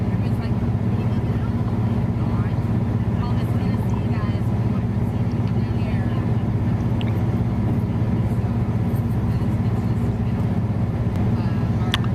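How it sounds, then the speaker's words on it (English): A loud, steady low truck engine drone fills the cab without letup, travelling in a convoy, with the rumble picked up strongly by a microphone inside the truck. "When you're in a truck, you pick up an awful lot of engine noise."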